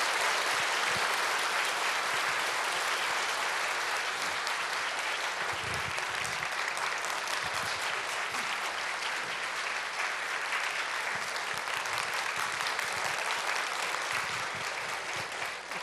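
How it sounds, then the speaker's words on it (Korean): A church congregation claps warmly to welcome a guest speaker, a long, dense and even roll of applause filling the room, somewhat distant and steady from start to finish without a break. "큰 박수로 모시겠습니다"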